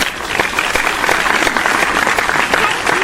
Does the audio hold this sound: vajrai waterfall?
no